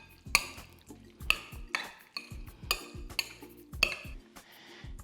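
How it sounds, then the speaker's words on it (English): Lomi lomi salmon ingredients with sesame oil stirred in a bowl, a utensil knocking and clinking against the sides about six times in a steady rhythm, close and clear with no talk. "let's give that a stir"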